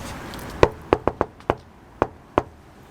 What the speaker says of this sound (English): let's give her a knock and see